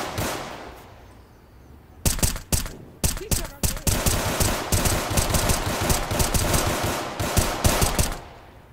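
Glock gunfire erupts in a Roblox shooting game, rapid bursts of sharp shots in quick succession after a quiet opening, loud and near, with faint voices in the background.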